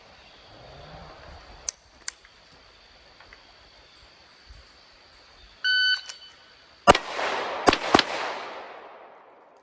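Gunshots fired at swinging steel targets, a few sharp loud cracks in the second half, one followed closely by another and then a third, after a quiet stretch that includes a brief electronic beep.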